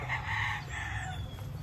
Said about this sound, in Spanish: También le voy a exhibir aquí, que tengo a mi lado, un gallo y 3 pollas.